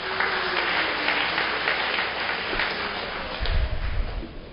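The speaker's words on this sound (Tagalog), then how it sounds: "Isa pa pong palakpak sa ating pong choir." Church audience clapping for the McGill Memorial Church choir, a dense steady round of applause that fills the whole stretch before a low thump and a slight fade at the close.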